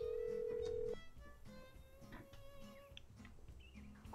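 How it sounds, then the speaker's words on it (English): A telephone tone sounds in the Nancy Drew Secret of Shadow Ranch video game, a steady sustained beep for about a second, then fainter tonal electronic phone sounds follow. The surrounding audio is quiet. "Okay, let's make some phone calls."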